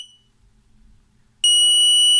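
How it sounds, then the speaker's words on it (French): An Arduino motion-detector alarm gives a brief tone, falls quiet, then sounds a loud, steady, piercing electronic tone that continues to the end. "Et mon alarme a sonné pendant une seconde."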